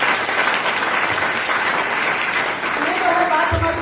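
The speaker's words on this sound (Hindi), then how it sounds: "दोस्तों तो हम चाहेंगे एपीएलएल के लिए एक बार जोरदार ताली" Loud, continuous applause from a seated audience at a business plan presentation, a dense, even wash of clapping throughout.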